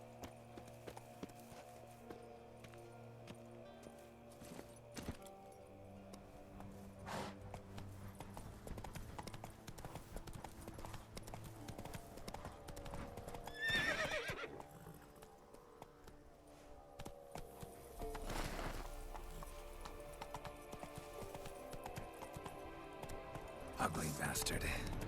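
Roach, a horse in the Witcher 3 video game, clip-clops along in steady hoofbeat patterns at low volume with a brief faint whinny, while a person talks over it intermittently.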